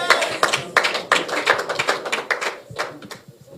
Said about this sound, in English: So another round of applause for our presidential candidate.